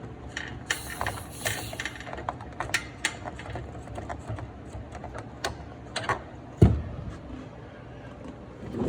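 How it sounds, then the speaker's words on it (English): A vacuum hose being disconnected from an HVAC air-conditioner fitting gives a series of small clicks, taps and handling knocks, with one sharper thump partway through, all close and fairly quiet. "We're gonna go ahead and disconnect our hose to give us a little bit of room"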